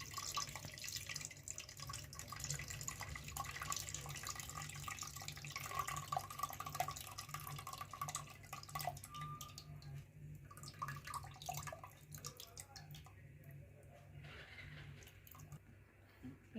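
Pepper rasam is strained through a filter, giving a faint, continuous liquid trickle and wet squishing over a low background hum, with no voice.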